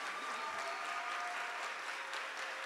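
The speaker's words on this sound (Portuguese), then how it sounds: "uma salva de palmas para a nossa querida" Audience at a FLISOL 2024 literary panel on music and literature gives a short burst of dense, steady applause, fairly distant and even, with no voices on top.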